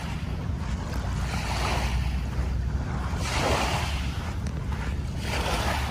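Waves wash in soft, rolling surges along the Manila Bay shore as the tide goes out, with a steady rush of wind buffeting the microphone in between.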